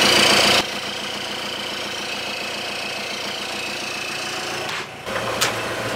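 A sailboat's auxiliary engine idles at anchor with a steady, even mechanical thrum, preceded by a brief burst of wind or handling noise at the start and a short dip and clunk near the end.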